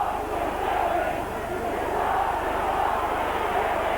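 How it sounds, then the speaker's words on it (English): Partisan home crowd in the South Stand at a Leeds versus St Helens rugby league match, a steady distant roar of massed voices reacting, under a commentator's talk. "the South Stand faithful below us don't like it, but they're going to have to suffer it"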